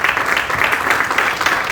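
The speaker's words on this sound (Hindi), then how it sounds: "मिस्टर देवांगन आप आए मंच पर जोरदार ताली के साथ में" Audience applause at an indoor stage event in India fills the whole moment, a dense, steady patter of many hands clapping at close range.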